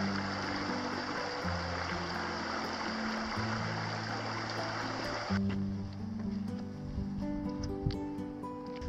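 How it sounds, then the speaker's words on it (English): Steady rushing water at a rocky river crossing on a hiking trail in the Dolly Sods Wilderness, a broad continuous flow that drops away abruptly partway through, leaving quieter trickling with light tonal sounds. "we are at the last river crossing of the trip"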